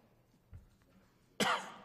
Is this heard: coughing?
yes